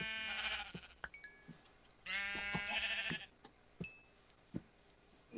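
Sheep bleating in the Minecraft video game, two long wavering bleats separated by short clicks and thumps, moderately loud with no talk.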